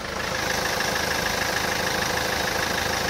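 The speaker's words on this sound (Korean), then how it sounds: "지금 바로 엔진 소리 한번 자세하게 들려드릴게요" A Kia Carnival minivan engine idles steadily and evenly, heard up close with the hood open, a constant low hum and light mechanical ticking throughout.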